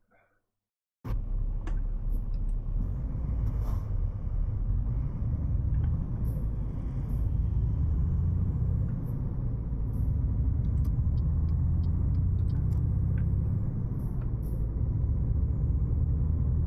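Trucks rolling along a road in Euro Truck Simulator 2, a steady loud low engine and road rumble starting abruptly after a second of quiet and holding evenly to the end, with faint higher clicks above.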